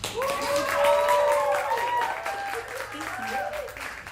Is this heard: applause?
yes